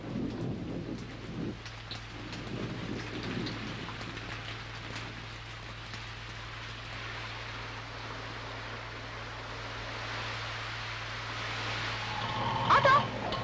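Heavy rain pours steadily in a city street downpour, with low thunder rumbling near the start and a brief sharper burst toward the end; a voice speaks faintly beneath the continuous hiss.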